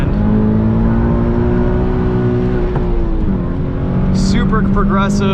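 Loud Toyota 86 sports car engine holds a steady drone, then drops and blips as it downshifts into second gear, revs climbing again sharply.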